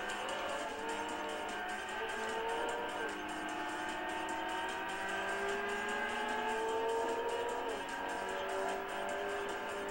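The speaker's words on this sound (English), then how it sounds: "I can feel the car is not accelerating as hard." Racing game engine from Import Tuner Challenge, a Cima straining up through the gears on a straight, a steady whining drone with rising pitch sweeps, continuous and moderately loud with no pauses.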